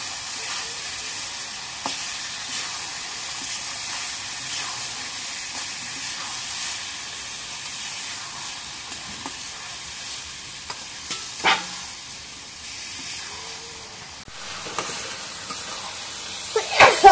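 Meat sizzles in fried spice paste in a pan, a steady close hiss lasting throughout, broken by a few scraping stirs and clinks near the end.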